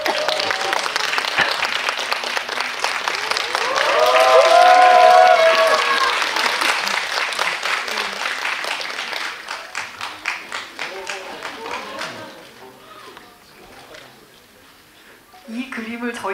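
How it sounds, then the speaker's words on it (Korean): Loud, sustained applause greets a surprise guest at a Korean film talk event, with cheering voices rising mid-way before the clapping tapers off while people start talking over it. "박수 부탁드립니다."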